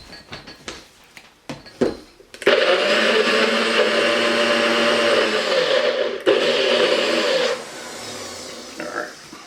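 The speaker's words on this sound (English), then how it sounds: "I'm going to blend this up first, get it mixed up before we add all of our seasonings in there" A blender whirs loudly and steadily through onion, garlic and horseradish for a sauce, starting after a few sharp knocks and clatters, pausing briefly, then running on before dropping to quieter handling noises.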